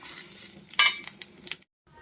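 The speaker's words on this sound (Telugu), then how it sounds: "ఇలా దంచుకున్న వెల్లుల్లిపాయలు వేయండి జీలకర్ర మినపప్పు ఎండుమిర్చి ముక్కలు కరివేపాకు" Crushed garlic, cumin, urad dal, dried red chilli pieces and curry leaves drop into hot oil, giving a brief, fairly quiet crackling sizzle with a few sharp spits and pops close by before it cuts off.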